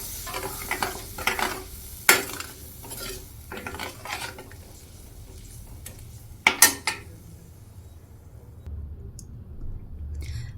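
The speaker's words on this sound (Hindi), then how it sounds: "अभी हम इसको चला लेते हैं और गैस हम अभी एकदम से नहीं खोलेंगे, पहले हम इसको थोड़ा सा ऐसे ही चलाएंगे" Taro (arbi) pieces stirred in a pan before the gas is lit, making irregular scraping and clinking spoon-on-metal strokes with a few sharp louder knocks, close up and without talk.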